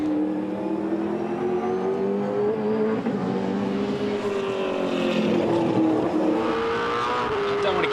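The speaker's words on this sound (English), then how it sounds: "This is Rick Kelly on board." Onboard engine of a 2007 V8 Supercar racing at Pukekohe Raceway, a steady loud drone that rises and falls with revs through the whole stretch, heard alongside a commentator's voice.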